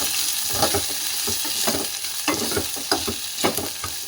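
Finely chopped onion with curry leaves sautéing in a pan, a close sizzle broken by repeated scraping stirs of a spoon against the metal.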